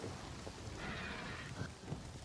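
Steady rain hisses through a clouded forest in Avatar: Frontiers of Pandora, a dense even wash of patter with no voices.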